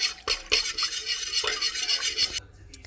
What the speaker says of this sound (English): we're going to mix this together with my fancy dough whisk